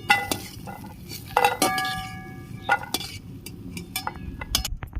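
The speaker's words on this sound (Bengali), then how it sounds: "বড়িগুলো ভাজা হয়ে গেছে আমি তুলে নিচ্ছি" Fried lentil dumplings (bori) are lifted out of a pan, giving close metallic clinks and scrapes of a utensil against the pan, with a few sharp taps and a faint ringing tone.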